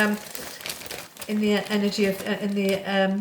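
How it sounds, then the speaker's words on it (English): Plastic crinkling and rustling up close, with harmonic tones running beneath it from about a second in. "piece of plastic, single-use plastic bag, really annoying"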